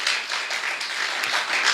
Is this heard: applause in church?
yes